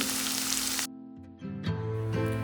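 Masala powders for a papaya pickle hitting hot oil on a low flame: a loud, dense sizzle at first, then a sudden drop to quieter frying with soft bubbling, before the sizzle swells again.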